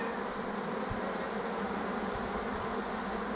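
Dense, steady buzzing of many honey bees around young queen bees fills the air close by, a continuous droning hum with no talk over it.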